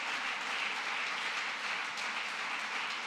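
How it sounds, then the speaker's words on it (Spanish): A large church congregation claps together in a steady, dense wash of applause that holds at an even level throughout. "Ese aplauso es para el Rey de Gloria."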